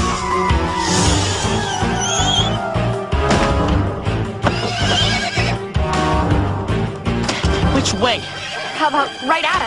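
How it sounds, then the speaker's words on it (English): A miniature horse whinnies repeatedly amid busy, loud background noise, with hooves clopping and commotion throughout, voices mixed in. "A miniature seeing eye horse."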